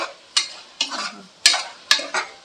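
Mutton being stirred with turmeric in a pan for gongura mutton curry, a spoon scraping in four or five distinct sharp strokes over a soft background sizzle, close and alone without talk.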